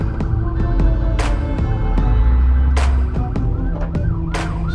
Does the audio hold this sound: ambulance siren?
yes